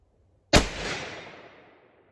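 A single loud, close 8mm Mauser rifle shot at an outdoor shooting range, a sharp crack followed by a long fading echo and ringing tail.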